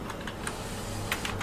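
A few quick keystrokes on a computer keyboard, close and brief, over a steady background hum, with no talking.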